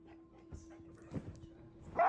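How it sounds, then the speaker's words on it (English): Quiet dog barks and whimpering yips from meme audio, a few scattered sounds followed by a louder burst at the end. "Goddamn bark!"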